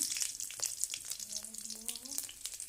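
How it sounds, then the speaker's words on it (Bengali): Bay leaves, whole spices and green chillies fry in a little oil in a wok, giving a soft crackling sizzle with small pops, and a voice murmurs faintly underneath. "তুমি কড়াতে একটু তেল দিয়ে দিলাম, দিয়ে দুটো তেজপাতা, ফোড়ন আর কাঁচা লঙ্কা দিয়ে দিলাম"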